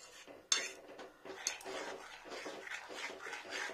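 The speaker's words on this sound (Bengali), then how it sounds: "আমি যেহেতু চামচটা মিক্সিতে ইউজ করেছিলাম ওই জন্য চামচটা দিয়ে ঘুরিয়ে নিচ্ছি" A metal spoon scraping and clinking around a bowl of thick poppy seed paste (posto), with a sharp knock near the start and steady gritty stirring strokes close by, no talk.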